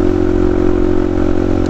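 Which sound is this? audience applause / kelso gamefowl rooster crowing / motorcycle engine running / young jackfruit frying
motorcycle engine running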